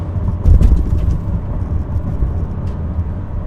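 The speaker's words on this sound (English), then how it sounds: "it definitely does the auto rev match by itself" The engine of a BMW M2 Competition blips during an automatic rev match on a downshift. It is a steady, close cabin drone with a brief louder swell near the start, and nobody speaks.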